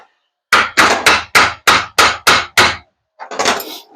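Eight sharp, loud metallic hammer blows in a steady rhythm on a 4R70W transmission part, each ringing briefly, then a rougher scraping knock after a short pause.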